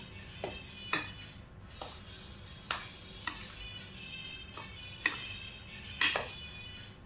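Raw banana gojju is mixed in a pot with a spoon, giving about ten sharp metallic clinks at an irregular rhythm over a faint background, close and fairly quiet.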